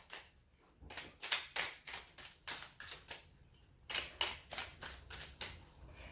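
Tarot cards are shuffled in quick riffling bursts, a steady run of crisp flicking rustles in close, quiet, with no talk.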